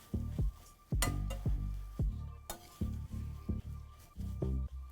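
Salted onions stirred in a pan with a utensil, a series of irregular clinks and knocks against the metal, fairly close and clear with quiet gaps between strokes; no voices.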